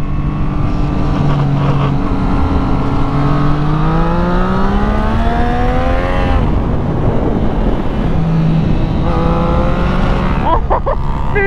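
A motorcycle engine, running alongside a turbo-tuned Yamaha Niken three-wheeler, revs loudly and rises steadily in pitch as it accelerates past, with several climbing engine tones and a passing surge, then it settles and revs again near the end.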